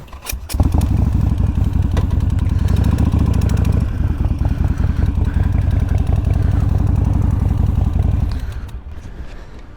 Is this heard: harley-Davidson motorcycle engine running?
yes